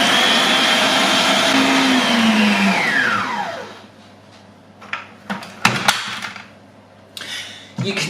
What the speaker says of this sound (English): So, high speed, and we're just going to mix these good and proper until they're very light